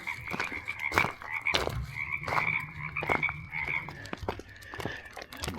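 Frogs croak in repeated bursts near an outdoor spot, a chorus of rhythmic calls layered over a low steady background hum, with no talking.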